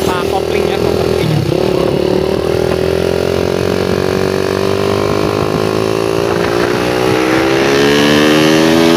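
Motorcycle fitted with a PWK carburetor revving loudly while being ridden, engine pitch climbing steadily across gear changes, close and dominating throughout.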